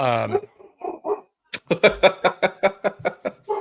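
Small dogs barking at home: after a brief spoken phrase, a rapid run of about a dozen sharp, close barks comes in a quick steady rhythm, with a few softer yips just before.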